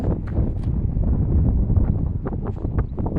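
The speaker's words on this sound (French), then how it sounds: "Il y a beaucoup de vent." Strong wind buffets the microphone in the Scottish mountains, a rough, low, rumbling roar with uneven gusts throughout and no talking.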